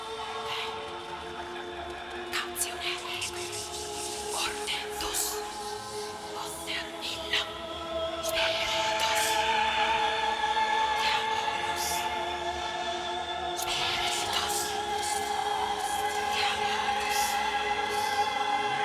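A sampled cinematic choir from a Kontakt library sings Latin-like syllables over layered whispers, building from a thinner breathy texture into a fuller, louder sustained choral wash with scattered airy accents.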